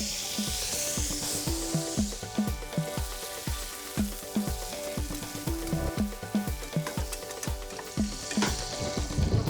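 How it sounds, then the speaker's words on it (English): Monkfish fillets frying in a generous amount of butter in a pan give off a steady, close crackling sizzle that runs throughout under rhythmic background music. "As soon as you turn that monkfish over, nice amount of butter in there."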